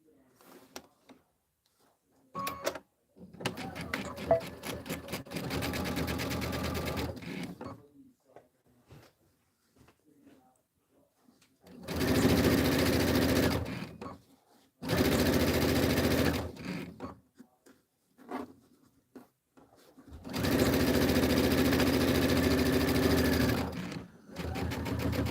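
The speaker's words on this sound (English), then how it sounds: "Okay, I'm gonna sew this on." An embroidery sewing machine stitching a Kimberbell County Blooms pillow design runs in several separate bursts of rapid needle chatter, each a few seconds long, with quiet pauses between them.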